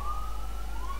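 An ambulance siren wails in a long, slowly rising tone over a constant low hum, somewhat distant and muffled, heard through an open window.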